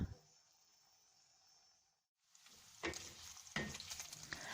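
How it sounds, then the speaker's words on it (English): A faint hiss fades out briefly, then beef frying in a pan starts up again with crackling sizzle and a couple of sharp stirring scrapes. "keep on frying the beef until it turns brown"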